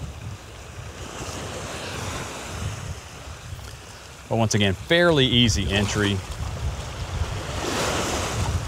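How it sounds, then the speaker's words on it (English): Ocean waves crash on the shore at a Bonaire shore-diving site, a steady, loud broadband roar of surf and wind that runs throughout, with someone talking briefly over it midway. "The waves crashing really silt things up"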